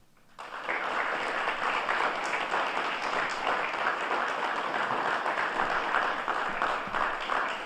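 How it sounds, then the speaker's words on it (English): An audience at a police academy graduation breaks into sustained applause, dense clapping that starts abruptly and holds steady and loud across the room for several seconds. "So cadets, I want you to applaud those officers that spend time with you."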